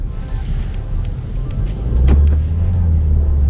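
A Proton X70 with a 1.8-litre turbo engine and a seven-speed dual-clutch gearbox, driving on a road. The engine and road rumble are loud and steady, swelling slightly partway through, and no one speaks.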